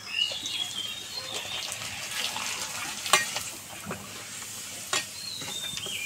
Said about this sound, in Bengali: আবারও একটা ভেজে নিচ্ছি আমি।